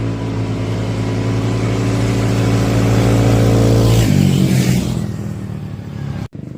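ATV engines, a 150 and a 250, rev hard and loud at a race start, a dense buzzing roar that sweeps as the machines pull away before cutting off abruptly near the end.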